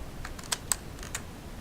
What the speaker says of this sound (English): we can hit insert on our keyboard like that